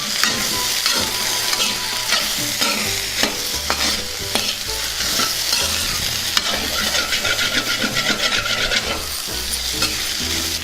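Taro root fry being stirred in a pan with chili powder, coriander powder and garam masala, a continuous sizzle broken by repeated scraping and clinking strokes of a spatula against the pan.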